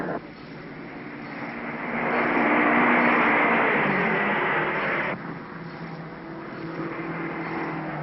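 Race cars roar past in the 1953 Indianapolis 500, a broad engine drone that swells to a loud pass, drops suddenly, then continues at a steady distant rumble.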